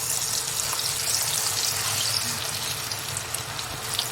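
French fries dropped into hot oil in a pan, frying with a loud continuous hiss and crackle, close and steady with no voices.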